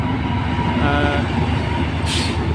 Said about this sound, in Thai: ขบวนที่ 31 กรุงเทพอภิวัตหาดใหญ่นะครับ